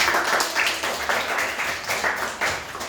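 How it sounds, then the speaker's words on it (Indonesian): Clapping from a classroom audience fills the space, a dense steady patter of many hands with no voices over it. "Oke, tepuk tangan untuk"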